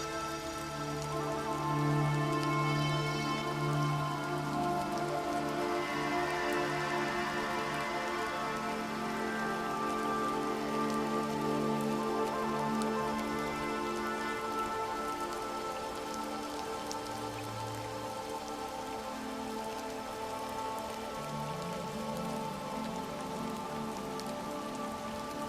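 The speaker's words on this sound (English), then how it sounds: "The streets glisten as the rain begins to fall more steadily, the sound soft but insistent" Rain falls steadily on the streets of ancient Alexandria, a soft but insistent continuous patter that holds an even level throughout, with no voices.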